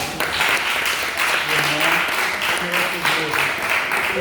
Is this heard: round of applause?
yes